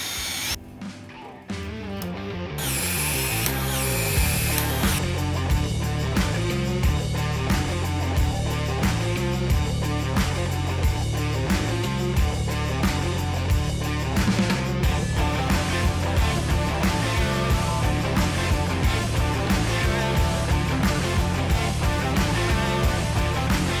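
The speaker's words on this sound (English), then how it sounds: "Now let's drill through this other wall and see if we can hit some of the metal studs." A power drill runs almost continuously while drilling through a wall with metal studs in a shop under construction, loud and close, with a fairly steady whine carrying a repeated rhythmic chatter after a brief start.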